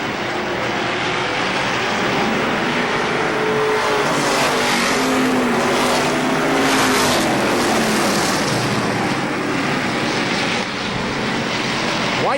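Race cars roaring together at the green-flag start of a race at KilKare Speedway, a loud continuous engine din with rising and falling tones as the pack passes, no talk over it.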